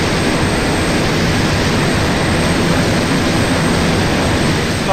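An enemy fixed-wing plane's engine in the combat game Arma 2 roars as a loud, steady drone, holding at an even level for the whole stretch without a break.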